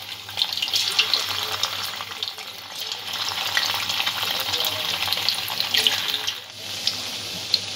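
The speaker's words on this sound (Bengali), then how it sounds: "পনিরটা হালকা করে আমি ভেজে নেব, হালকা রং ধরলে তুলে নেব আর কি।" Paneer pieces shallow-frying in white oil, giving a steady close hiss and crackle that runs throughout with a brief dip near the end.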